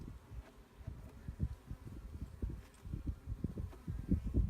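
Honey bees hum and buzz steadily at an open, strong spring hive, a close continuous drone with rustling and knocking from the hive being worked.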